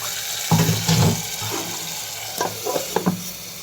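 Curry with bay leaf being stirred in a pan, with short bursts of sizzling and scraping that come and go in several strokes, close and moderately loud with no talk.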